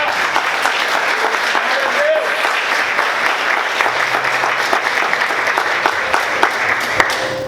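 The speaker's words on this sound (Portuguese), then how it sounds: "Quantos podem aplaudir Jesus bem forte?" A church congregation applauding loudly, a dense, even roar of clapping from many hands that continues steadily throughout.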